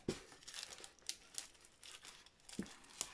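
Packaging for an LED brightpad crinkles and rustles during unboxing, in short, close, irregular crackles and bursts that are fairly quiet, with no speech.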